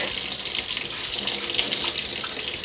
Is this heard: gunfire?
no